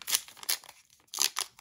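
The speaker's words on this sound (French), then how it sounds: "Il est donc temps maintenant d'ouvrir ce booster." Someone tears open a Pokémon McDonald's booster pack, producing close, bright ripping and crinkling foil bursts in two quick clusters separated by a short near-silent gap.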